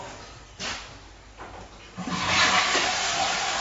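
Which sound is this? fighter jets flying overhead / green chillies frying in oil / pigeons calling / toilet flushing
toilet flushing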